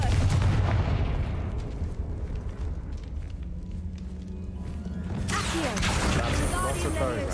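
A Confringo spell blasts bones stacked beside an archway in Hogwarts Legacy, opening with a heavy explosive crash, then a fading rumble and scattered rattling debris, followed by a sharp rising magical swell near the end.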